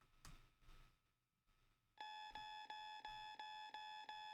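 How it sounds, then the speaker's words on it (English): An inorganic electronic alarm in a story scene, heard after faint thuds and a quiet stretch as a loud, steady string of repeated beeping tones, about one per half second, with no voices. "In place of that person's scream was an inorganic alarm."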